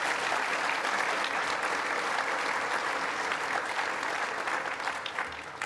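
An awards gala audience applauding sponsors: steady, dense clapping from a large crowd that holds for several seconds and starts to thin at the end.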